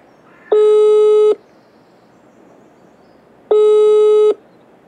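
Two identical electronic phone ringing tones in the Farming Simulator 22 video game, each a steady, loud, flat buzz lasting just under a second, separated by a pause of about two seconds, with no other sound.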